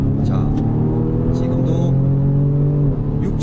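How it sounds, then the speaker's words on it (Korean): A BMW M235i's 2-liter four-cylinder gasoline engine hums steadily near the microphone, with brief crackling exhaust pops at the 6000 rpm gearshift, while someone talks over it. "6000rpm에서 딱 변속이 되면서 터지는 팝콘 소리, 이 엔진의 배기 사운드 대박입니다"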